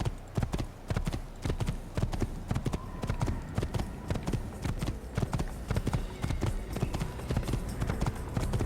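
Hooves of a galloping horse in Assassin's Creed clatter in a fast, continuous clip-clop rhythm, close and prominent throughout with no talk over it.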